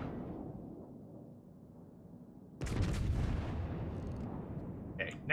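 Naval gunfire in World of Warships: a sudden heavy booming salvo breaks in after a quiet rumbling stretch, leaving a sustained low roar with a brief sharp burst near the end.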